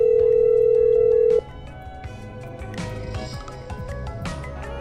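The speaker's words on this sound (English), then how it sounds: "I'm dialing. One moment." Telephone tone while dialing a hospital in a video game: a steady loud tone for about a second and a half, then a quieter background with faint clicks and game sounds.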